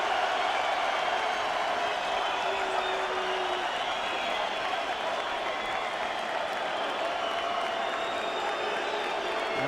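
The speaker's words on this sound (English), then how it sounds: "And getting great support from the crowd." Boxing arena crowd at a heavyweight bout cheering and applauding in a sustained, dense roar of clapping and shouts, loud and steady throughout, with a commentator's voice faintly under it.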